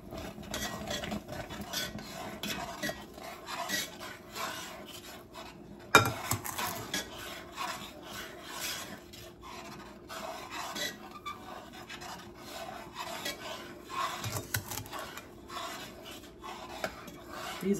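A spoon stirs and scrapes steadily around a pot of boiling strawberry jam as sugar is added, soft rhythmic rubbing with occasional metallic knocks and bubbling, close and fairly quiet.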